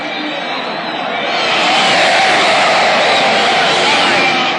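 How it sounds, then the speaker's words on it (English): A packed crowd of Kenyans celebrates at Uhuru Park in Nairobi, cheering in a continuous broad roar that swells after the first second and stays loud and dense throughout. "Uhuru Park was packed with a united crowd of Kenyans celebrating what was termed as second liberation"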